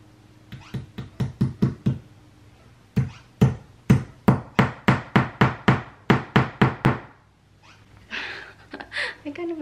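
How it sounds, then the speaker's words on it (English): A hammer drives nails into an upholstered headboard in quick, steady bursts of sharp knocks, two runs of blows separated by a brief pause, then quieter shuffling. "I think this is the hardest part, is not smacking or not hammering my nail"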